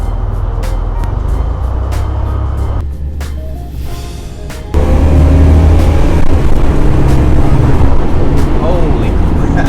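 A Buick Grand National, estimated around 400 horsepower, roars loud and steady on a dyno with vehicle noise, dipping briefly before surging louder and holding a strong sustained drone; voices are faintly present.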